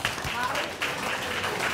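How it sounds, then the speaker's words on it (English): An audience at a stage event claps to welcome a woman named Jenny, a quick dense patter of many hands lasting under two seconds, with talking mixed over it. "Hey, round of applause for Jenny"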